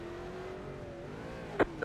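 A late model race car in iRacing revs hard against the rev limiter in second gear at Stafford, a steady droning engine tone held close and loud, ending with a brief sharp burst.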